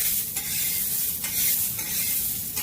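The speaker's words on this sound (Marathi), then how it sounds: "आता हे वाटाणे ना भाजणार आहे" Green peas dry-roasting in a hot pan for a pea and coconut karanji filling, a steady close sizzle and crackle with stirring scrapes throughout, no talk.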